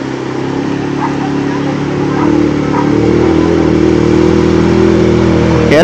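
An ATV engine revs hard while crossing a river, a loud, close, steady motor drone that climbs in pitch and volume partway through, with a faint clatter near the end.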